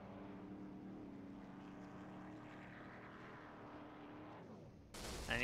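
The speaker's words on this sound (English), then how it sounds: "sound was Mike's motor finally detonating." A racing-game pickup truck engine drones steadily on a virtual Daytona oval, then abruptly bursts into a loud, harsh roar of noise near the end as the motor blows up.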